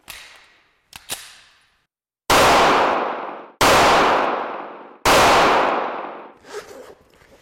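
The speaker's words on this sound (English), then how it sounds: "We're going to start with a 9mm, a full metal jacket, and we'll fire 3 rounds." Three loud 9mm full metal jacket rounds fired in close succession into a backpack, each sharp crack followed by a long ringing decay, preceded by fainter metallic clicks and handling noises.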